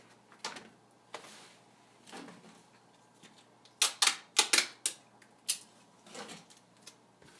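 Tape being pulled and pressed onto foam for backpack strap prototypes: a series of sharp ripping and crackling bursts, sparse at first, then a quick cluster of loud tears, close and alone.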